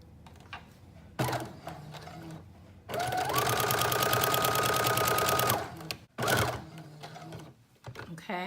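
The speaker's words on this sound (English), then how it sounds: "you're gonna do a long machine stitch to this whole curved side of your facing" Sewing machine running a long basting stitch along the curved side of a Simplicity 8218 teddy bear jacket facing, a close steady whir of rapid stitching for a few seconds, with talk and handling before and after.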